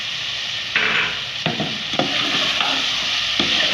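Peas are tipped into a pan of frying carrots and vegetables for red sauce macaroni, then stirred: a loud, steady close sizzle broken by several sharp scraping strokes of the spoon.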